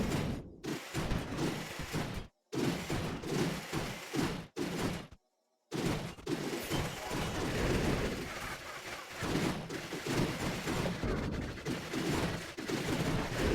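Cannon carts firing in a Clash of Clans raid, a dense run of booming shots and mechanical clatter that fills most of the stretch, broken by a few short silent gaps.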